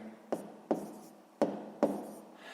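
A pen writing on paper during a sixth-grade maths exercise, heard as four short scratchy strokes at a steady pace, close and fairly quiet, with no talk.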